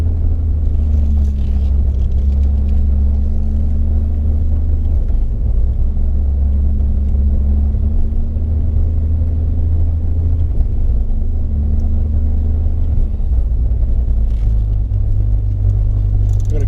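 A 1991 Nissan Fairlady Twin Turbo engine runs steadily at low idle-like revs, a loud continuous low rumble with a droning tone that dips and shifts slightly a few times, no voices.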